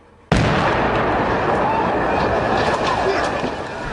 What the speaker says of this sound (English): the SAS detonate a huge explosion to blow out the skylight on the embassy roof